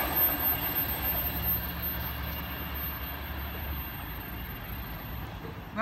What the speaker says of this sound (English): We have a VSET passing platform number 1